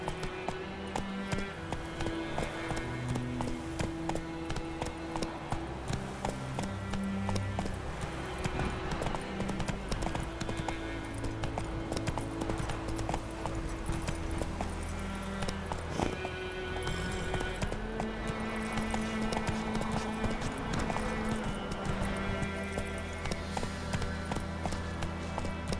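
Roach, the horse in the video game The Witcher 3: Wild Hunt, gallops with rhythmic clip-clop hoofbeats that run steadily underneath loud, continuous orchestral game music for the whole stretch.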